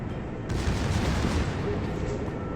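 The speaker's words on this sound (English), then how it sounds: "he's shooting right from my bow, my side, and he does get in some really good shots" Battleship main-battery gunfire in the naval warfare game World of Warships, a Tier 8 battle: a dense, continuous low rumble of overlapping booms that swells after the first half-second and stays loud throughout.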